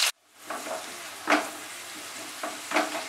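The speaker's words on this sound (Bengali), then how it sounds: "পেঁয়াজটাকে কিন্তু একটু ভালো করে ভেজে নিতে হবে।" Chopped onions frying in oil for a dhaba-style chicken bharta, a soft steady sizzle after a sudden start, punctuated by three or four scraping stirs of a spatula in the pan.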